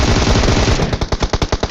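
Rapid automatic gunfire in a battle royale video game, a dense continuous burst that breaks into distinct, evenly spaced loud shots near the end, with no talking.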